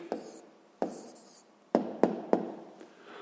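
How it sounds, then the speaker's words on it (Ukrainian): Pen or pencil writing down the answer to a fifth-grade math exercise, a few short scratchy strokes and taps close up, with quiet pauses between them. "Ну що ж, записуємо відповідь."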